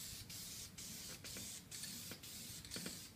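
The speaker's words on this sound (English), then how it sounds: "we're going to try spraying a pumpkin and see what it looks like" Krylon flat white spray paint hissing from an aerosol can onto a pumpkin, in several steady bursts of about half a second separated by short gaps, close and fairly quiet.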